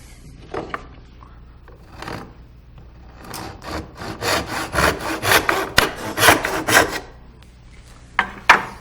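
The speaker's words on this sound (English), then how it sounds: "I'll use the back saw and the chisel to cut it and split it." Hand sawing through wood with a back saw, a run of rhythmic rasping strokes that builds in the middle and trails off into a few scattered scrapes, close and alone.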